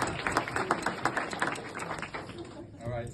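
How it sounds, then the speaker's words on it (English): An audience claps for Alexander at a live storytelling event, a brief burst of applause that fades out after a couple of seconds. "applause for Alexander."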